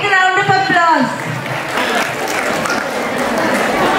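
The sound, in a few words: audience applause for a self-choreographed dance team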